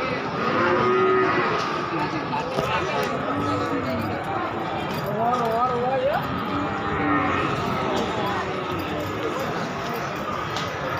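Cattle moo repeatedly at a busy livestock market in Wirosari, Grobogan, Central Java, the calls rising over constant crowd chatter and bargaining voices.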